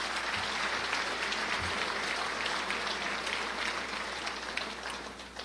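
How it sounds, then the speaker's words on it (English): Seated audience at a city State of the City address claps for a group of officials, a continuous, fairly distant wash of applause holding steady for several seconds with a low hum beneath it. "Let's give that group a round of applause."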